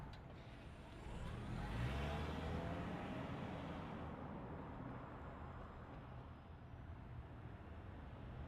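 A 2025 Toyota Crown XLE hybrid sedan starts moving, a steady low rumble of tyres and drivetrain rising and then holding as a broad, even road noise.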